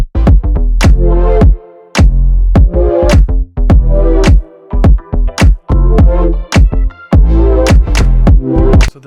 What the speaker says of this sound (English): So now we got the kick, the clap, the bass, and the main instruments.